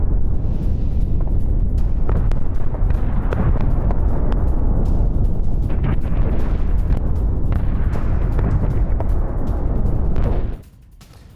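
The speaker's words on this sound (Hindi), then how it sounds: "IRGC का यह वेयरहाउस था जिसे निशाना बनाया गया और इसे उड़ा दिया गया।" The bombing of an IRGC warehouse in Kashan produces a loud, continuous rumbling roar of blasts and crackling bursts lasting about ten seconds, then it cuts off abruptly to near quiet.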